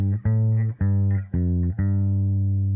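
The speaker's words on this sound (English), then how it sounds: "From my ersatz bass guitar on channel 2, we get bass tones." Bass guitar notes played through an AmpliTube 5 bass amp and cabinet, four long sustained deep tones, each struck cleanly and held before the next, loud and alone with no talking.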